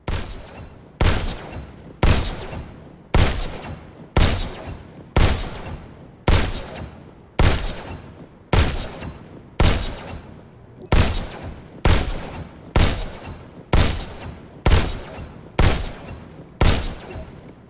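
Pistol shots from the VR shooter Robo Recall fire one after another in a steady, evenly spaced rhythm, roughly one crisp, loud report per second, each with a short decaying tail and no talking.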